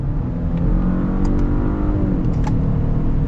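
A 2021 Genesis G80 with a 2.5-liter engine drones steadily as it accelerates under load, heard from inside the cabin, loud and continuous, with faint clicks and no speech.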